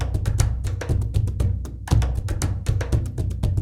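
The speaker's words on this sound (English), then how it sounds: "I can load up a multi and play not only one, but stack 3 loops on top of each other for a basic groove." Three cinematic drum loops from the Elements Cinematic Rhythms library play stacked together as a basic groove, with dense rhythmic hits, deep low booms and bright percussive transients in a steady, loud pattern.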